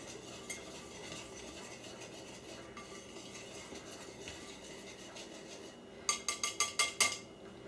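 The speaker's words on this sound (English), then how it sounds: "Now you just whisk that all together so it's blended really well." Flour, ground cinnamon and ground ginger are whisked together in a bowl for pumpkin bread. A soft, steady scraping runs throughout, then a quick burst of sharp metallic clinks near the end.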